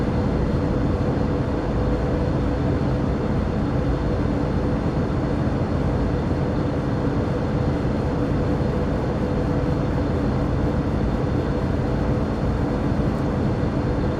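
A GE ES44C4 locomotive in dynamic braking, simulated in Train Sim World 3, gives a steady loud broadband roar with a constant droning hum that holds unchanged throughout, with no talk over it.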